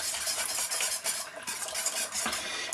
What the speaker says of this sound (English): Just give them a little mix.